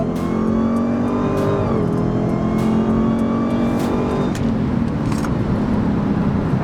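A 717-horsepower muscle car launches under full throttle, its engine roaring loudly and climbing steadily through the revs, heard from inside the cabin with no talking over it.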